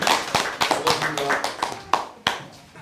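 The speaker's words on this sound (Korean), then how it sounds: "박수로 환영해 주시기 바랍니다." A small audience at an academic conference gives scattered, uneven applause, with distinct individual claps and taps rather than a dense roar, fairly close, with a voice faintly underneath.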